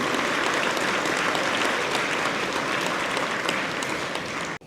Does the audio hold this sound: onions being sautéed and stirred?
no